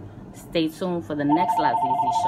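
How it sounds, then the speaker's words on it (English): A telephone rings with a steady electronic bell tone that starts partway through and continues to the end, playing under a person talking close by. "Oh, whoops, that's my phone."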